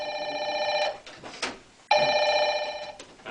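A telephone rings in two loud, close bursts of bright electronic trilling, separated by a short pause with faint noise between.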